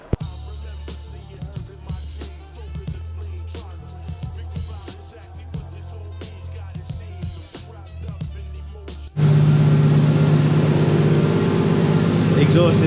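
Toyota JZX90 fitted with a new exhaust: clattering work sounds first, then the engine starts and settles into a loud, steady idle rumble.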